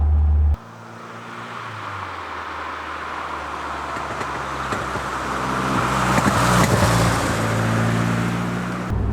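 Interior drone of a Caterham Seven 310S engine and tyre roar on the road, steady and loud, building slightly as it accelerates, with a gear-shift dip early on.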